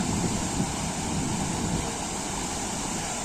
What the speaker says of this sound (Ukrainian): Водоспад гук.